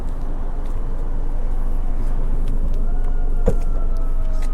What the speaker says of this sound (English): here come an ambulance